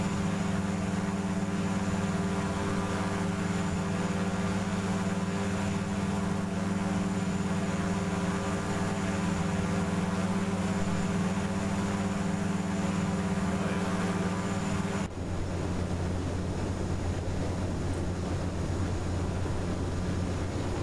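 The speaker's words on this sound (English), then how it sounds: "X-Plane is so loud I can't even hear you, Bill." Simulated aircraft engine from the X-Plane flight simulator, a constant droning hum with layered tones that shifts abruptly to a rougher, lower drone near the end, loud and alone.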